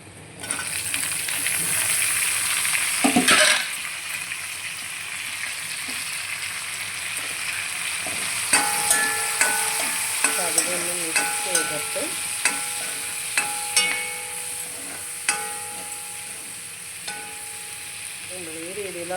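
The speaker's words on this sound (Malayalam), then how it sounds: "ഇനി നമുക്കിത് അരിഞ്ഞ് വെച്ച സവാള ഇട്ട് കൊടുക്കാം" Sliced onions fry in oil in a pan, giving a low hiss, with a loud clatter early on. Then comes a run of sharp metallic taps and scrapes from stirring, close and with no speech.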